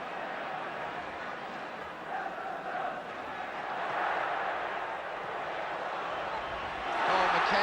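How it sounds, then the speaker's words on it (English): Football crowd at an Everton v Liverpool FA Cup semi-final, a broad sustained roar of cheering that swells and rises louder toward the end, with no clear talk over it. "Oh, McKenzie, the crowd enjoyed that."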